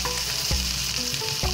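Food sizzles steadily in a frying pan in the video game Palworld, a dense continuous crackle with game interface blips and short tonal chimes layered over it, no talking.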